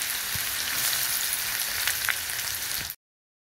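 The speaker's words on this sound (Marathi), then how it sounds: "इथे मी एक मोठा कांदा बारीक चिरून घेतला, तो टाकूया" Finely chopped onion sizzles and fries in hot oil with mustard seeds and curry leaves, a loud, steady crackling hiss that runs unbroken before cutting off abruptly.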